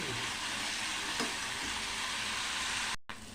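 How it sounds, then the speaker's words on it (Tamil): Chopped pirandai (veldt grape) sizzles steadily in hot oil with salt, a close, constant frying hiss with a faint stir or two, cut off briefly near the end. "அதே எண்ணெயில் அந்த வறுத்த எண்ணெயிலே போட்டு அந்த பரண்டையை வதக்கி எடுத்துக்கிறேன்."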